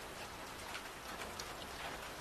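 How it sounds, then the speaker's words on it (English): Steady soft rain patter in a story reading, a continuous gentle hiss of drops with no voice over it, fairly faint throughout. "The rain softened to a gentle patter as Buttons yawned, followed by Mr. Paws,"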